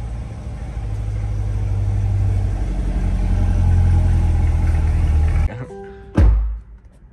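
C8 Corvette engine rumbles at a loud, steady rev for several seconds, then cuts abruptly and is followed by a sharp thunk.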